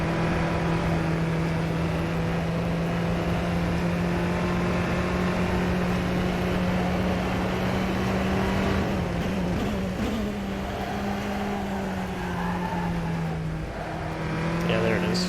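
Steady buzzing drone of a Tatuus race car engine in rFactor 2, holding a constant pitch before wavering briefly as the throttle lifts mid-corner, close and continuous beneath quiet talking.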